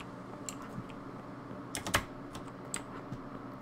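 Scattered keystrokes on a computer keyboard, a few quick clusters of clicks with a denser burst in the middle, fairly close and moderately quiet over a steady low background hum.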